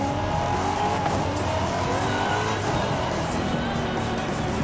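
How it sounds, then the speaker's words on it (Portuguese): Race car accelerating in a Forza racing video game, a loud continuous engine roar with rising pitch and tire noise, steady throughout with no talk. "ele vai acelerando o carro."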